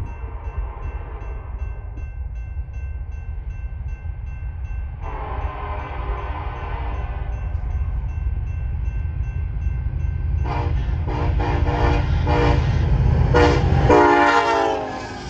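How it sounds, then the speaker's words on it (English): A westbound intermodal Z freight train rolls past in the Clinton, Iowa area with a deep engine rumble, then sounds its horn in a long blast followed by several sharp repeated blasts close by, all loud and without talk. "How about this westbound Z train, along with a horn salute from the crew?"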